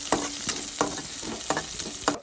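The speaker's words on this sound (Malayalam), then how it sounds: "നമ്മുടെ വറവ് താളിച്ചൊഴിക്കുകയാണ്." Hot oil tempering of dried chillies and curry leaves sizzles as it is poured onto cooked tapioca, with repeated loud bursts of crackling about every half second and no talk.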